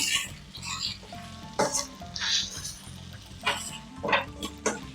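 Mangalorean chicken ghee roast sizzles in ghee in a pan while being stirred lightly: a quiet, steady frying crackle broken by several brief scraping and clinking bursts from the utensil, with no speech.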